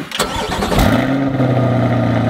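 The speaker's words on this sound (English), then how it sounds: "So we're gonna hop in the C8 and off we go. But first, let's get a cold start." A Chevrolet Corvette C8 cold-starts with a sharp starter whir and a loud bark, then settles into a deep, steady high idle, close and heard with no voices.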